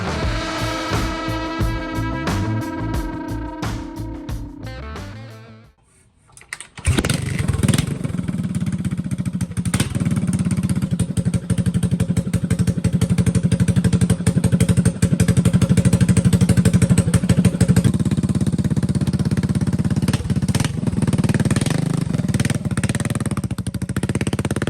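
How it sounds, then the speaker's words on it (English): Motorcycle engine starting after a carburetor rebuild and jetting: music fades out, then after a short silence the engine catches and settles into a loud, steady idle with a pulsing rumble that runs on clean without sputtering. "You'll see after the startup and the run for a little while, the bike ran pretty clean."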